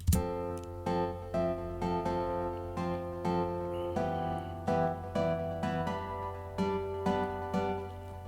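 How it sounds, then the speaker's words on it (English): A virtual strummed guitar from the Strum Session plugin plays rhythmic chord strums over a sustained low drone, regular repeated patterns with occasional chord changes, fairly quiet and without voices. "For the guitar, I'm using a plugin called Strum Session."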